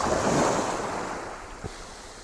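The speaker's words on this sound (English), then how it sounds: "Spend all day just looking at waves." Ocean waves break on a seashore with a broad, loud wash of surf that swells and then eases, mixed with wind buffeting the microphone, and a small thump near the end.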